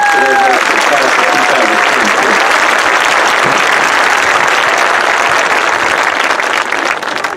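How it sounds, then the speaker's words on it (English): Sustained loud applause from a large crowd at a high school class of 2023 commencement ceremony, a steady wash of clapping that carries on throughout and only begins to thin out at the very end. "Please join me in a round of applause for those people."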